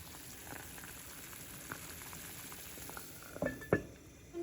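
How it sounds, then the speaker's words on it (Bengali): Rasgulla syrup made with date palm jaggery boils in a pot, producing a faint, even bubbling with a few small knocks near the end. "তো আমি একটু ফুটিয়ে রসটা কমিয়ে নিচ্ছি যাতে ভেতরে সমপরিমাণ মিষ্টি হয়"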